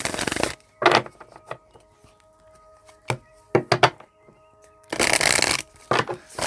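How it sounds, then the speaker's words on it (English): Playing cards being shuffled up close, with riffling bursts at the start and end and scattered taps and thunks of cards in between. "Give it a good shuffle here."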